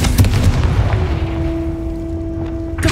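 Bombarda and Confringo spell blasts in Hogwarts Legacy, a loud booming explosion at the start followed by a rumbling decay with a sustained tonal hum and another hit at the end.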